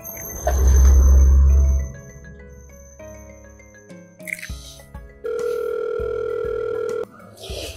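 A phone tone sounds twice: a steady electronic tone around the first second, then a longer tone a few seconds later, with small clicks and soft tones between them.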